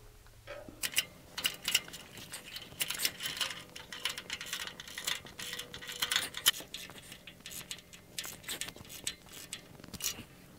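A ratchet wrench tightens the brackets on a log deck trailer axle, with rapid bursts of close, sharp clicking repeated over and over amid light metallic handling.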